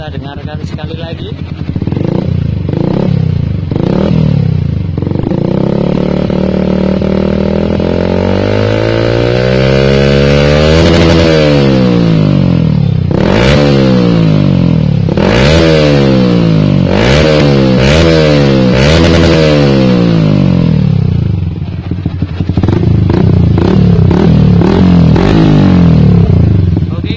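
A Yamaha R15 with a Proliner TR1 long exhaust and no dB killer revs repeatedly, loud close blips rising and falling in pitch over a steady idle, with sharp throttle bursts and crackles between.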